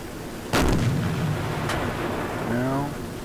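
A deck gun on a submarine fires in the naval game Silent Hunter IV. One heavy booming shot is followed by a second sharp report and then a long rumbling tail, with a faint whine near the end.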